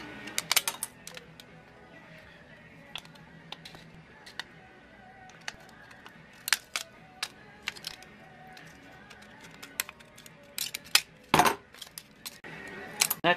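Scissors cut a traced airplane pattern out of a thin metal can: scattered, sharp snips and tinny clicks at an irregular pace, faint and close, with a few louder cuts near the end.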